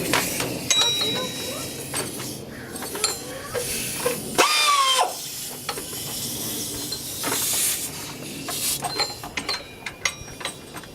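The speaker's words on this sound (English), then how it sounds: "then I'll use my tool to tighten it up" A power tool tightening a screw on the alternator of a 1996 Lexus LS400, a short whirring burst amid clinks, rattles and hissy workshop noise, close to the microphone.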